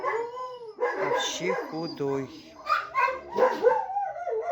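A thin dog howls and yelps in a rising, wavering voice, with short barks mixed in, close and fairly loud, while a person speaks over it.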